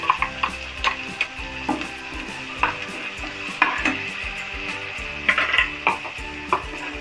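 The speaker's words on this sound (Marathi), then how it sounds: "फ्राय करून घ्यायचं व्यवस्थित मसाल्याला तेलामध्ये।" Ground masala paste fries in oil in a pan, a soft continuous sizzle broken by regular scraping and stirring clicks of a spoon against the pot, close and fairly quiet with no voices.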